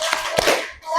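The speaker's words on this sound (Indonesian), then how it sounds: "sebelum presentasi kita tepuk semangat" A classroom of Islamic education pupils performs a 'tepuk semangat' spirit clap, a short burst of rhythmic hand clapping close by, with a brief pause before it picks up again.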